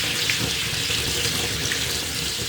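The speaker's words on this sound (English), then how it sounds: "I'm gonna run some cold water over the pasta noodles just so it prevents it from continuing to" Cold water from a kitchen tap pours steadily over freshly strained pasta noodles in a sink, a loud, continuous splashing rush with no break throughout.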